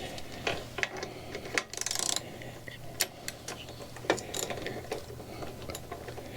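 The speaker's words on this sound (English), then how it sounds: "I probably could have just used my socket for this," A socket wrench ratchets on an ebike crank in short bursts of dry metallic clicking, interspersed with scattered taps and clinks of tools, fairly close and quiet.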